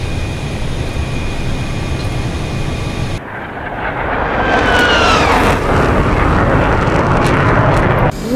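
Jet engine roar of a combat aircraft in the DCS World flight simulator game, a steady loud drone that shifts abruptly and swells into a rising whine and heavier rumble as the engine spools up, with no speech.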